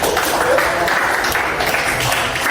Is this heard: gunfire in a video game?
no